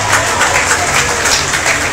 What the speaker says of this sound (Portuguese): Cadê as palmas para Jesus?